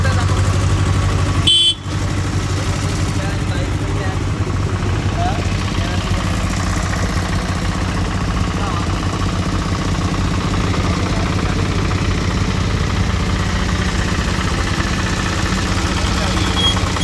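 Car engines idle and rumble steadily while vehicles board a ferry boat on the Guhagar to Ganpatipule crossing, a constant low drone close by, with a brief sharp noise near the start and people talking over it.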